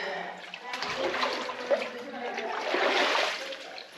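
Feet wade and splash through shallow puddles of the Paria River in the Buckskin Gulch slot canyon near Kanab, Utah, giving a continuous close sloshing wash with a brief sharper splash midway.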